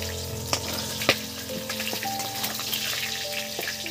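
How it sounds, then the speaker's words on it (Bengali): Large pieces of a 7 kg sea fish frying in hot oil, a continuous crackling sizzle with a few sharp clinks of the pieces being lifted out one after another, close and moderately loud with no talk. "ভাজা হয়ে গেছে, এবার তুলে নিচ্ছি একটার পরে একটা"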